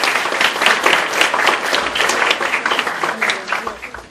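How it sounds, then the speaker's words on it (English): Audience applause and cheering at a Thanksgiving community event, a dense continuous wash of clapping with scattered voices throughout, loud and close, tapering slightly at the end. "Let's give a big cheer to Shakir."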